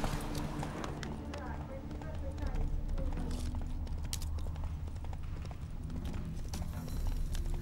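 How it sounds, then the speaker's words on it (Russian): Horse hooves clip-clopping steadily in The Witcher 3, a continuous rhythmic trot close by, layered with game ambience and bits of voice in the background. "Кажется, конь захромал."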